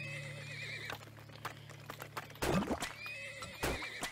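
A horse in the video game TurmOil neighs, with a few whinnying bursts over a steady low hum, followed by a couple of short thumps.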